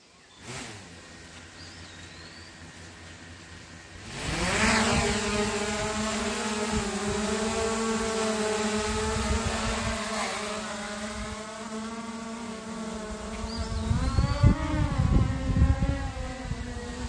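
A drone's propellers spin up with a sharp rising whine on a windy sunrise morning, then settle into a steady, loud buzzing hum that wavers as it climbs.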